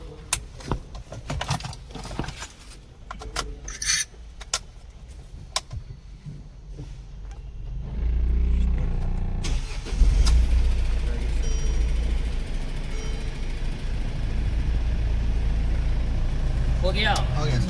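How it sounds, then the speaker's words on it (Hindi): A Mercedes-Benz car gets its ignition switched on after electronic steering lock programming. Scattered clicks and people talking come first, then the engine cranks and catches midway, settling into a steady, close idle rumble under continued talk. "ऑन हो रहा है, इग्निशन हो रहा है सर। हो रहा है, स्टार्ट भी हो रही है गाड़ी।"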